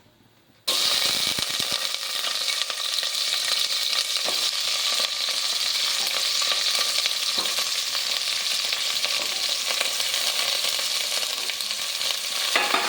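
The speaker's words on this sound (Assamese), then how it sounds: "প্ৰথমে মই পটলখিনি গৰম তেলত দি ল'ম।" Pointed gourd (parwal) pieces drop into hot oil and fry with a loud, bright, continuous sizzle after a brief quiet start, and stirring clatters and scrapes occasionally under it, with no voices.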